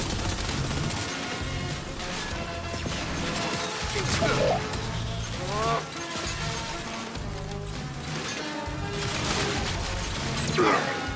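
Weapon fire and impact effects from the video game Gears 5 recur through a dense mix of music and in-game noise, with sharp bursts around the middle and end; a voice carries on throughout.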